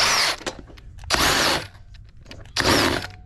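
Impact wrench tightening a wheel on a Buick Lacrosse during front hub bearing replacement, three loud, close bursts of whirring hammering, each about half a second, separated by short pauses.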